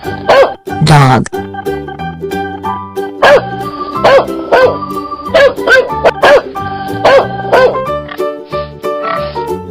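A cartoon dog barks in a children's animated animal sequence, giving a run of short, repeated yaps over cheerful background music.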